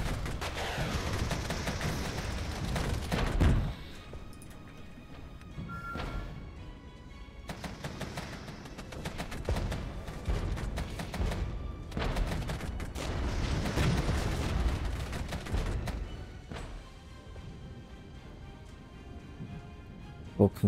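Artillery fire and gunfire in the real-time strategy game Regiments, a dense stretch of overlapping booms and rattling shots that carries on for about twenty seconds with no speech over it.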